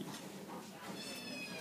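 A cat meows softly nearby in a cat shelter, one or two faint mews over low background noise.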